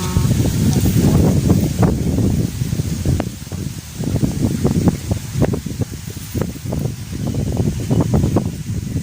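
Gusty wind roars steadily across the microphone, with rustling bursts rising and falling throughout and no voices heard.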